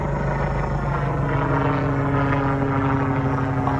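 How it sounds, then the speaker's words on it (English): A JCZK 300C remote-control helicopter drones with a steady, loud engine roar and rotor hum throughout, continuous and without pauses. "I can see the helicopter over there perfectly fine."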